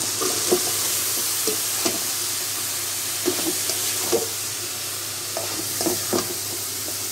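Eggplant pieces fry in hot oil with cooked spice paste, giving a steady close sizzle broken by scattered scrapes and knocks of a spoon against the pan, with no talking.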